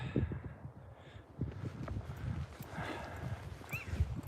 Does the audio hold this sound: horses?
yes